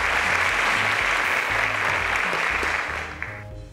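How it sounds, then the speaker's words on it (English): Studio audience applauding a quiz show contestant on Cowbellpedia, a strong, steady clapping that fades in the final moments, with a low musical beat pulsing underneath. "A round of applause to Mustapha"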